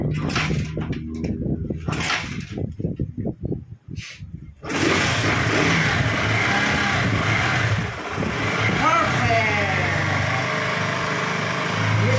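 A Bajaj Pulsar NS160, originally fuel-injected, starts and idles after conversion to a carburetor, first sputtering in uneven bursts, then settling into a loud, steady close-up running drone with a slight dip partway through.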